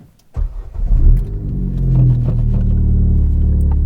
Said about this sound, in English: Let's turn the car on and let's go for this drive.